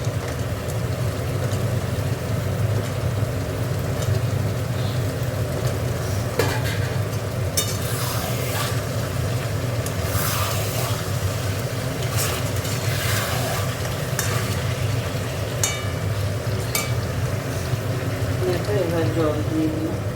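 Duck eggs fry and are stirred in a pan, giving a steady, loud sizzle with scattered scraping clicks from the stirring that run the whole time.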